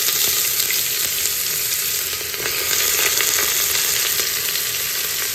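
Onions frying in hot oil in a pan for chicken heart biryani, a dense, steady sizzle that stays close and continuous throughout, with no talking.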